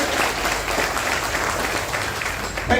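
Steady applause from a lecture audience on Kangen water fills the whole stretch, dense and even, with no break in the clapping.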